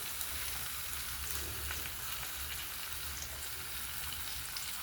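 Garlic hitting hot oil in a frying pan while pickle is cooked, a steady, fairly quiet sizzle with a crackling hiss that holds evenly throughout and no voices.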